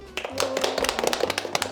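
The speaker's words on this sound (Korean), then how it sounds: "박수!" A small group gives a short burst of applause during a visit to the Korean National Commission for UNESCO, with quick, dense claps close by and a murmur of voices underneath.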